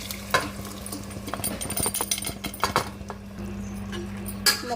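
Mutton pieces being stirred and mixed with chilli powder in a pot, with steady scraping and clinking of a spoon, a faint sizzle underneath and a louder knock near the end.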